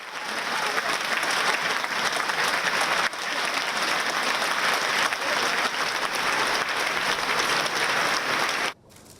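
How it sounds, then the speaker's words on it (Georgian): Long, dense applause from a concert audience after a requiem performance at a Georgian culture festival in Belgium, loud and steady throughout before it cuts off abruptly near the end. "პასუხი ხანგრძლივი აპლოდისმენტები იყო"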